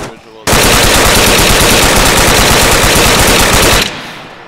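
Sustained machine-gun fire in the military video game Arma III: a loud, continuous rapid burst of shots lasting about three seconds, then cutting off abruptly, with no talk over it.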